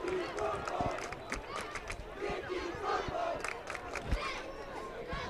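Hand High School students cheer in the stands at a football game against Fairfield Prep, a loud, rolling crowd roar with whoops and shouts. A commentator's voice carries over it throughout.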